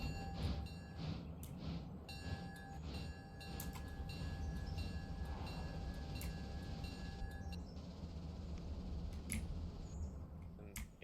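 Passenger train in the Railroader simulation game, a steady rolling rumble with clicking and faint horn-like tones throughout, moderately loud, no talk.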